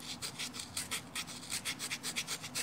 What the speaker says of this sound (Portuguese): Ele manda raspar com um cinzel, você tá raspando com um martelo.